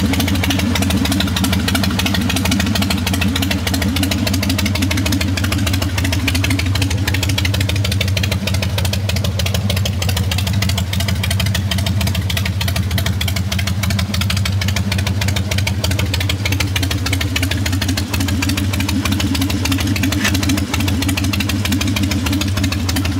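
Motorcycle engine idling in front of a garage, a steady loud low rumble with fast even pulsing that carries unbroken throughout, close by and without speech.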